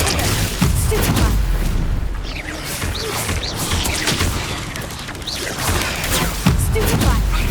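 Spell blasts from combat in Hogwarts Legacy, a Stupefy stun cast amid a fight against spiders, come as repeated booming impacts and crackling bursts layered over a dense, continuous game soundscape with no talking.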